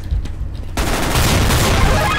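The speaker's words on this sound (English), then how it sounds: "Long distance shotgun, not very good." Shotgun fire in the game CSGO starts with faint shots and then becomes a loud continuous barrage of overlapping blasts.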